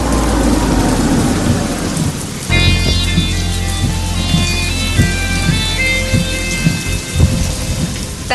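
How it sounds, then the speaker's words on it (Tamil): Heavy rain pours steadily onto surfaces while thunder rumbles low and loud, with a sharp crack of thunder about a third of the way in and rolling booms continuing under the downpour. "மழை பெஞ்சிக்கிட்டு இருக்கு."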